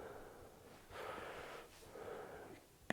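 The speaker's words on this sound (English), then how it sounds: "Long exhale." A long, breathy exhale during a vinyasa yoga balance pose, soft and airy, swelling for about a second and fading, with a second gentler breath following, close and quiet.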